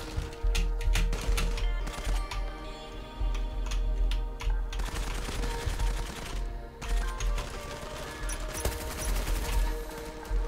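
Rapid automatic gunfire in the Zula online shooter, dense bursts of shots rattling almost continuously with brief gaps, loud and close over game background sound.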